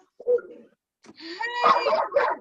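A dog barks and yips in a short burst near the microphone, with whimper-like sounds between the barks, in an indoor home setting.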